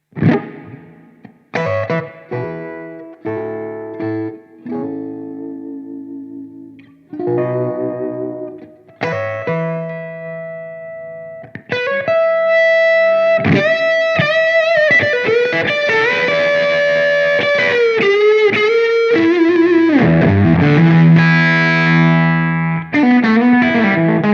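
Electric guitar through a Blackstar ID:X amp plays separated notes and chords, then moves into a fuller, continuous driven passage with bends and sustain.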